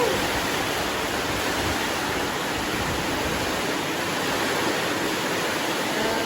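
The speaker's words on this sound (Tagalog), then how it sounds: "Ay, napakalakas ng ulan." Very heavy rain pours down in a dense, constant roar that stays loud and unbroken throughout, with no voices over it.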